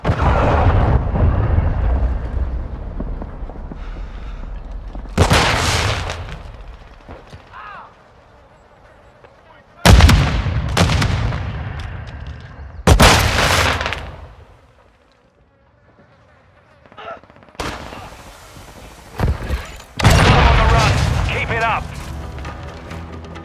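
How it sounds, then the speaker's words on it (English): A cruise missile strike lands in Call of Duty: Modern Warfare II, several loud booming explosions in separate bursts, each decaying into rumble with quieter gaps between, mixed with game audio and occasional voices. "Friendly cruise missile inbound."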